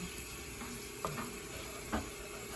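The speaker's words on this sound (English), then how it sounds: "Stir this up a little bit" Cajun oxtails frying in a pot give a soft, steady sizzle, and two brief scraping knocks come from a utensil stirring the meat. The sound is fairly quiet and close, with no speech.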